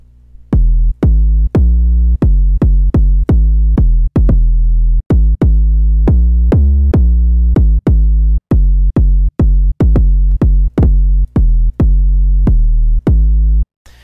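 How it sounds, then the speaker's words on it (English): Booming, distorted synthesized hip-hop 808 kick drum hits pound out a syncopated pattern, deep and loud with long sustained bass tails, no voices. "This is like a distorted hip-hop 808 kick bassy thing"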